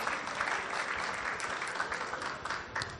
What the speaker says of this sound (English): So a round of applause to all of you for joining us on this path for our married life.